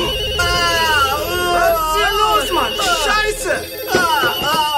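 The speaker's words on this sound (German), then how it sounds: "Das ist das Telefon am Ende des Korridors." A phone rings repeatedly with a steady tone while agitated voices talk over it.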